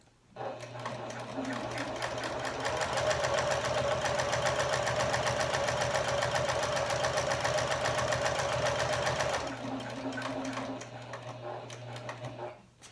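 A Janome HD9 sewing machine runs steadily for about nine seconds, a fast even mechanical chatter close by, then stops; softer handling noise follows.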